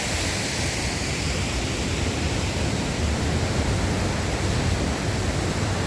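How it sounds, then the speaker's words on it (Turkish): Sütüven Waterfall in the Kazdağları mountains of Turkey roars as a steady, broadband rush of falling water, constant and enveloping with no voices over it. "Bu şelale ise kızıl keçili çayını besliyor."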